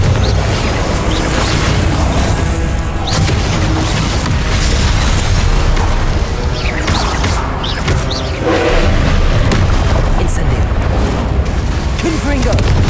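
Confringo spell explosions in Hogwarts Legacy, loud booming blasts and bursts going off continuously close by amid dense battle noise, with voices calling out over the din.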